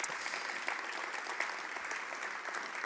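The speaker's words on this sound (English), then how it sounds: "Give them a big round of applause." An audience at a city planning symposium applauds, a steady dense clapping that fills the room at moderate loudness for a few seconds.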